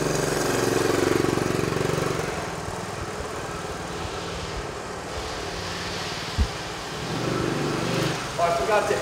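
A 1969 Honda CT90 K1 with an overhead-valve single-cylinder four-stroke engine runs steadily nearby, a continuous low putter and drone beneath someone talking throughout.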